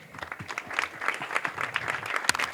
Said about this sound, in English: Can you give God a clap?